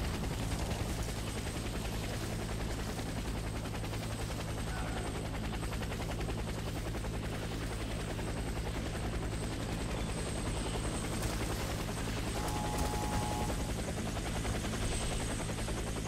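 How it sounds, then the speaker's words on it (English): Helicopter in the Warface video game gives a continuous low rotor thrum with steady engine whine, moderately quiet and unbroken throughout, with a faint tonal blip near the end and no voices. "Get to the chopper, boys."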